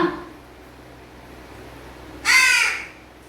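A single harsh caw from a crow chick bursts out near the end, brief and fairly close, after a stretch of quiet background.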